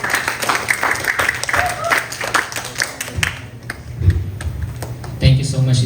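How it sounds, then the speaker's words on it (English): A church congregation claps during a sermon, scattered quick hand-claps ringing out over a steady hum, with a voice speaking near the end as the clapping thins. "Let's give him applause."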